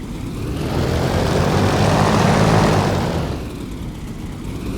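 A propeller plane's engine drones close and loud while taxiing in the DCS flight simulator, swelling through the middle and easing back toward the end.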